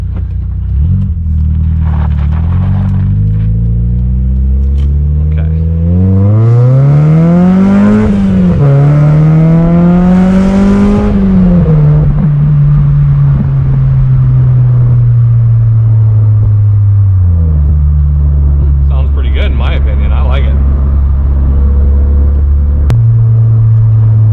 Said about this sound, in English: some footage of driving the car with the top down in this new exhaust setup I have